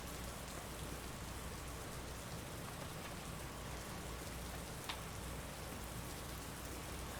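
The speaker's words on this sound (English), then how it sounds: "Rain pounded hard and fast." Heavy rain from Hurricane Katrina pours down in a dense, unbroken wash of noise that stays loud and even throughout, with no voices.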